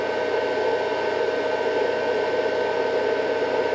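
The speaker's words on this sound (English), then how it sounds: "you're going to hear that fan, which may or may not be something you want to hear while you're sleeping." A Bluetti AC200Max power station's cooling fan runs with a steady, even whooshing hum, close and continuous, with no talking over it.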